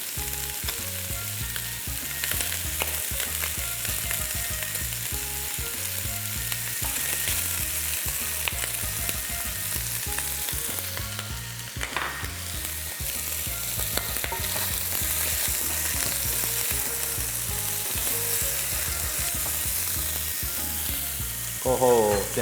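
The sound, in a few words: pork trotters stir-fried with dark soy sauce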